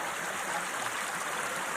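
A small mountain creek in Ice House Canyon trickles steadily, a soft even wash of water with no other sounds over it.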